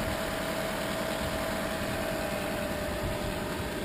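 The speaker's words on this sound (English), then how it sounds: "The gas engine is running right now." A gasoline car engine idles steadily under the open hood, a constant close-up rumble with a faint high whine and no voices.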